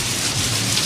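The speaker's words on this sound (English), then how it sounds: "It's raining inside the store!" Rain pours indoors inside a store as a sound effect in a Sesame Street episode, a dense steady hiss of falling drops, loud and continuous with no voices.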